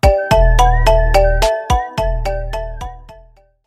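A short marimba ringtone phrase: about ten rapid mallet notes over a deep sustained bass, loud at the start and fading gently to silence at the end.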